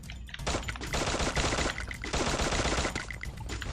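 Enemy gunfire in the Free Fire battle royale game, sustained loud automatic bursts crackling almost continuously with brief gaps, several weapons overlapping close by.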